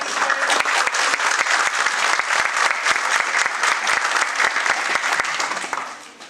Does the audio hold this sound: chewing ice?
no